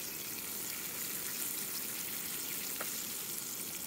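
Bluegill fillets fry in a pan of hot oil for fish tacos, a dense, continuous sizzle and crackle that holds steady throughout, close and fairly loud.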